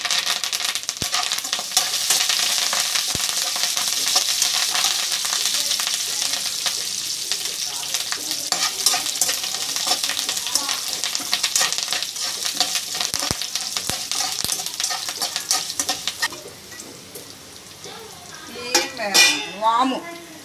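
Green and dried chillies with curry leaves fry in a pan for waamu rice, a loud steady sizzle with scattered stirring clicks that fades near the end before a few louder scrapes.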